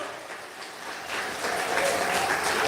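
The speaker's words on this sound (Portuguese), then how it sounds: "Palmas são louvores a Jesus." A church congregation applauds in praise, a dense wash of clapping that swells steadily louder and fuller over a few seconds, with no voices standing out.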